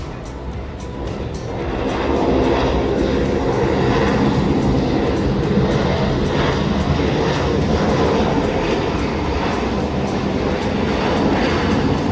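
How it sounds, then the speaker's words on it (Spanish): A Copa Airlines Boeing 737-700 arriving from Tocumen, Panama lands at Guayaquil airport, its jet engine roar rising after a quieter start and holding as a steady, loud broadband rush with no talk. "Y aterriza ahora un 737, diría que es 700, de Copa Airlines desde Tocumen, Panamá."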